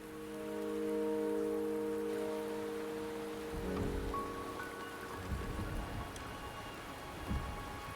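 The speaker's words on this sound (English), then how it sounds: "The rain is subsiding, and the sky will soon clear." Rain falls steadily in the video game Wuthering Waves, with a deep rumble of thunder midway and scattered heavier splashes later, all fairly quiet beneath a soft background tone that fades out.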